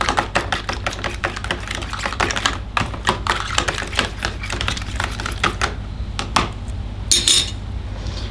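One egg being beaten loose in a bowl for breading chicken, with a fast, steady run of close, light clicking and tapping strokes, fairly loud and continuous, with no talking over it.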